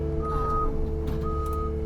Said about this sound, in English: Now you'll hear the beep, beep, beep.